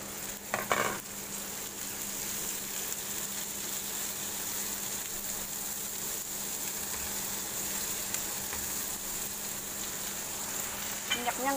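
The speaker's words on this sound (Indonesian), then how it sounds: "Ini ada kebos, ada kol sama wortel kita goreng." Cabbage and carrots frying in oil in a home kitchen pan, a steady close sizzle running throughout with brief stirring clatter near the start and end.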